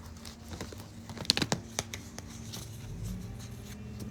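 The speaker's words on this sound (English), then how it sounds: "let me pick these cards up and shuffle them again here" Tarot cards being shuffled by hand, a quiet run of soft riffling and flicking with a few sharper snaps near the middle, fairly close and low in level, with no talking over it.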